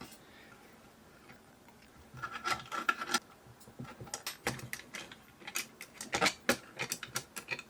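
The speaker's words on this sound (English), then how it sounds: "you're going to take an Allen key and you're going to undo these 4 screws" An Allen key turns and works loose the screws on an M-Lite REVO light, giving close, scattered clicks and scraping ticks that grow busier after a quiet start.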